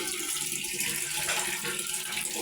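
Water running steadily for a bath, a constant rushing flow at moderate level throughout with no talking.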